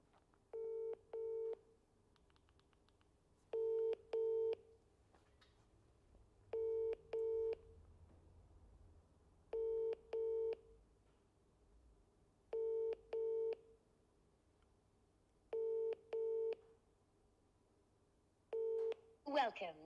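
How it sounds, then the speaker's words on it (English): A telephone call rings out with evenly spaced double ring tones, about eight bursts over the span, fairly quiet against a low background hum with no clear talk. "we're going to give him a call, and hopefully he'll answer"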